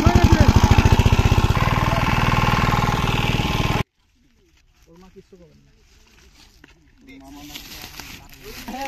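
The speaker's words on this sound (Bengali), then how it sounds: "এই যে এখন মেশিন স্টার্ট দেওয়া হচ্ছে" An engine-driven water pump at a village pond runs loudly with a steady chugging rattle, then cuts off abruptly into near quiet, followed by faint handling noises and rising background sounds.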